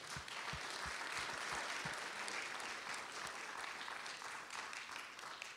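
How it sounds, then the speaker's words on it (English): Round of applause in a meeting room, a steady wash of clapping from a gathered group, fairly faint, with a few louder individual claps near the start. "Can we give a round of applause?"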